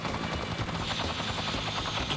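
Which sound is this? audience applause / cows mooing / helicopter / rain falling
helicopter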